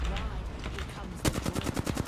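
Rapid automatic gunfire in Apex Legends bursts in after a second of muffled game noise, a fast string of close, loud shots over the background mix.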